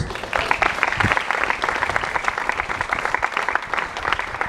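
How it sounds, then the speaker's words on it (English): A church congregation claps continuously, dense and even applause welcoming a guest speaker, filling the room with no voices over it. "So why don't you welcome this morning our guest speaker, Pastor Bruce Hills."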